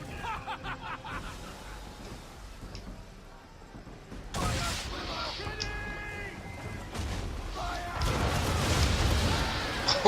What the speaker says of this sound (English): Go ahead and fire on these little ships using your swivel cannons.